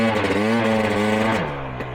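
A hard enduro motorcycle engine runs close by, its throttle held against a slipping clutch, producing a steady buzzing drone whose pitch rises slightly, then drops and settles lower near the end.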